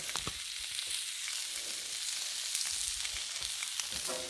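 Hot dogs sizzle on an outdoor griddle with a steady, fairly quiet frying crackle and scattered small pops and clicks from utensils, and no voices.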